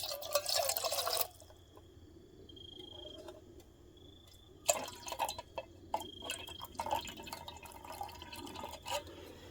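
Water is poured into a metal canteen cup for a camping meal at a winter campsite: a brief splashing pour, a pause, then a longer gurgling fill with uneven trickles and drips, close by with no talk.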